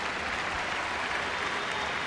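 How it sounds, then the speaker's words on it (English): Kilkenny hurling followers roar and cheer with approval during a substitution at the 2007 Leinster Senior final, a dense, steady wash of crowd noise and clapping with no break. "listen to the roar of approval from the Kilkenny followers"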